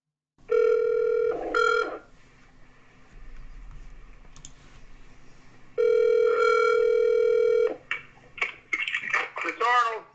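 A phone on a recorded sales call gives two long ringback tones, the first near the start and the second midway, with a quieter stretch between. A voice comes in at the very end.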